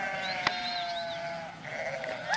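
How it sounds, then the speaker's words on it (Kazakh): Sheep run past on a summer mountain pasture, several animals bleating in overlapping wavering calls, moderately close, with a sharp knock near the start. "Мынау қойлар қайда жүгіріп барады?"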